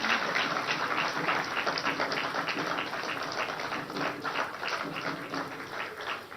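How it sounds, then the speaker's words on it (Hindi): Sustained applause from a large crowd at a political rally in Madhya Pradesh, dense and steady throughout with a faint tonal hum underneath and no clear speech. "तालियां तो जोरदार बजते रहनी चाहिए"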